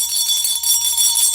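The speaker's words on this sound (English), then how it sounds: "Let's ring the bell." A ringing bell, a continuous bright metallic tone with layered high overtones and a steady hum, loud and sustained throughout.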